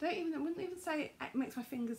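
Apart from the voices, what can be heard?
No everyday noises stand out.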